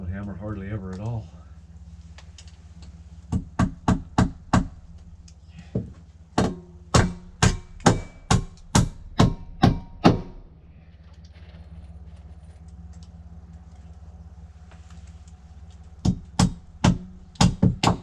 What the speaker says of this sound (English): I don't hammer every day